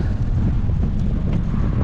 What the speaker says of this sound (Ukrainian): Вітер, звісно.